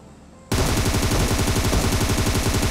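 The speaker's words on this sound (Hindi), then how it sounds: "पहले वाला बंदा उस वाले बंदे पे फायरिंग कर रहा था" Sustained automatic gunfire in PUBG Mobile near Pochinki, opening abruptly after a short quiet moment into loud, rapid, evenly spaced shots that continue without pause to the end.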